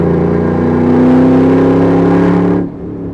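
A loud, steady V8 rumble from an LS3 engine swapped into a Land Rover Defender 110, holding a dense low drone with a slight rise before dropping sharply near the end, with no talk over it.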